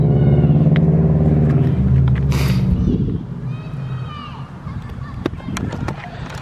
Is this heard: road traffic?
yes